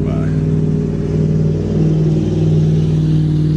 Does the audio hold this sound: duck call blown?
no